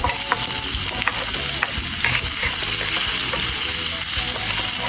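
Garlic and onion sautéing in a pan with ginger to follow, a loud steady sizzle and frying hiss with stirring scrapes, close and continuous with no talk.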